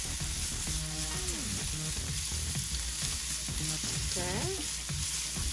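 Onion stirred in a sizzling pan with ginger, cooking for chicken pineapple, gives a steady close frying hiss throughout, with a brief word spoken over it and other voices faintly in the background.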